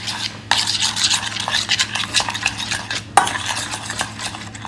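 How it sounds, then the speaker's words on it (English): A spoon works oil and spices into a red marinade paste in a bowl for fish, giving steady wet scraping and squelching strokes, close and continuous, with one sharper knock partway through. "let's mix this bad boy up into a paste."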